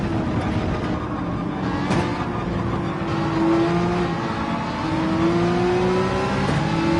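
A race car in Gran Turismo 7 at Spa drones loudly and steadily, its engine pitch rising and holding through the gears as it accelerates, with no talking over it.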